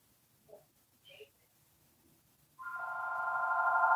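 A telephone starts ringing partway through, a sustained tonal electronic ring that swells in loudness after a few faint, scattered bleeps in an otherwise quiet room.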